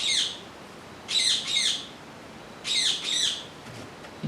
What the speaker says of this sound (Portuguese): Gente, aqui o pássaro tá na árvore, tá?